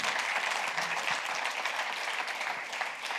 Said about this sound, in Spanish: da ese aplauso fuerte